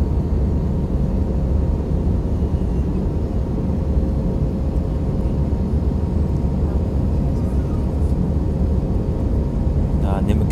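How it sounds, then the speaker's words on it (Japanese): Inside an airplane cabin about five minutes after takeoff from Santiago, a loud, steady broadband roar of engines and airflow fills the space without a break. "離陸して大体5分ぐらい経過しました。"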